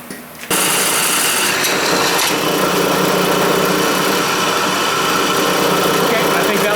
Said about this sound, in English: now I've got to bore this out all the way I started it